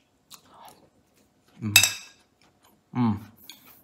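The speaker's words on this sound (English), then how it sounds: "All right, we're gonna taste the sausage." Someone bites and chews sweet Chinese sausage from Trader Joe's, a few close, soft crunching and smacking sounds separated by near silence, with faint clinks like cutlery.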